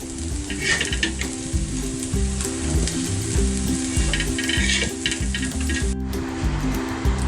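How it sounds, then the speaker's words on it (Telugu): Aloo tikkis fry in hot oil with a steady, loud sizzle and crackle, punctuated by rhythmic scraping and stirring in the pan, close up and with no voices. "సో ఇప్పుడు తీసేసుకొని మిగతాయి కూడా ఇలానే ఫ్రై చేసేసుకుందాము"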